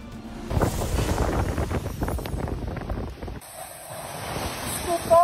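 Strong gusting typhoon wind on a coast roars and buffets the microphone, with a few voices shouting faintly underneath.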